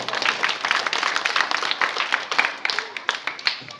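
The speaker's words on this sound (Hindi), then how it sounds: "जोर से तालियां बजाएंगे।" Villagers clapping loudly at a Congress party rally in Jhivraheri village, a busy stretch of many hands clapping outdoors, sharper individual claps emerging near the end.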